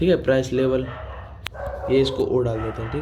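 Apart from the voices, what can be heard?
dogs barking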